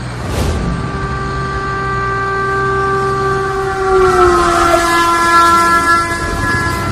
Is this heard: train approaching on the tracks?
yes